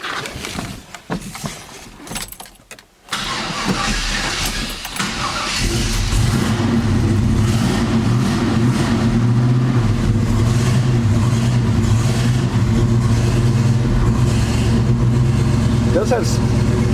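A 1969 Chevrolet El Camino SS V8 cranks over after a few seconds of quiet handling noise, catches and settles into a loud, deep rumbling idle with occasional revs, recorded close by.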